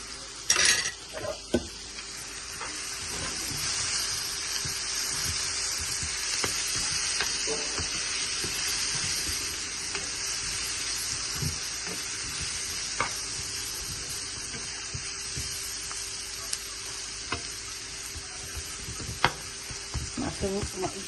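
Onions sizzle steadily in a pan with mixed curry powder, garlic powder and coriander powder, a continuous hissing fry with occasional clinks of a utensil against the pan.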